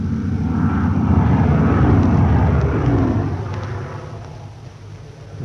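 Propeller aircraft drone overhead during an air raid in a radio drama, a loud, steady roar that builds and then slowly fades as the planes pass, with no talk.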